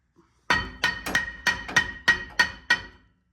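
Eight sharp metallic hammer strikes on a truck brake drum, ringing briefly after each blow in a quick, slightly uneven rhythm, close and loud with no talking.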